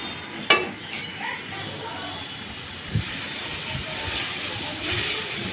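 Spice paste for a drumstick curry fries in a pan with a steady hiss. A few sharp scrapes and knocks come as it is stirred, and a voice may be faintly present.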